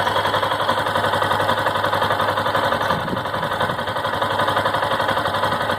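A 2018 Honda Factor 150 motorcycle with only 6,000 km idles close by with a steady, even engine rumble and a faint irregular noise from the motor, with no speech.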